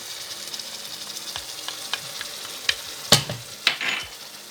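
Chicken frying in a pan for couscous, a steady close sizzle broken by sharp scraping clicks and clatter as the meat is stirred, with no talking.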